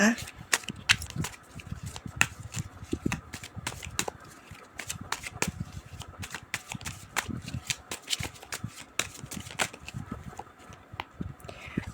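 Tarot cards being shuffled by hand nearby, a rapid run of crisp flicks and riffles repeating throughout, with a voice talking softly in the background.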